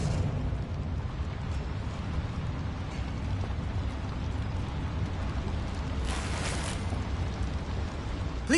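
A Bombarda blasting spell going off in Hogwarts Legacy, a dense roaring rumble of debris and crackle held at full strength for the whole stretch, with a brief brighter burst near the end.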